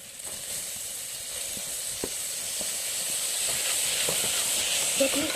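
Tomatoes sizzle in a hot pan over a low flame, a soft steady hiss with a few faint taps and scrapes, fairly quiet throughout.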